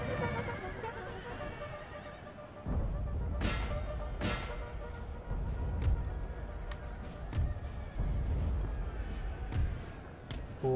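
Cavalry horses in a Napoleon Total War battle whinny in a few sharp, rising calls over thudding hooves and clashing battle noise, mid-distance, with several separate bursts spread through a rumbling background.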